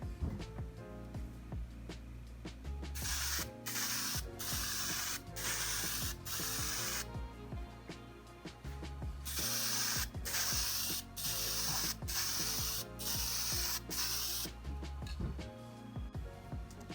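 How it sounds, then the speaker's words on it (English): Krylon Clear coat sprayed from an aerosol can to seal metallic paint on a CNC-carved wooden sleigh, several hissing bursts of a few seconds each separated by short gaps, close and fairly loud, over a faint rhythmic mechanical tick and without speech. "I've got the metallic paint sealed with the Krylon Clear light coats"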